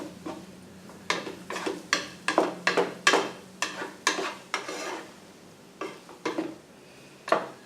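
A utensil stirs curry powder into food in a pan, scraping in a rhythmic series of about a dozen distinct strokes over a faint background. No one talks.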